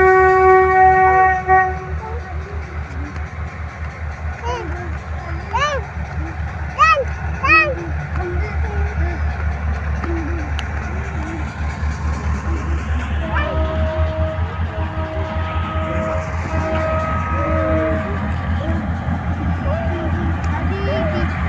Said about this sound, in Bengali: ও ট্রেনটা দেখো, ট্রেনটা দেখো